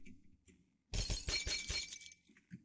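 Glass shattering in the Happy Wheels game, a sudden bright crash of breaking shards that rings briefly and fades, preceded by quiet thumps.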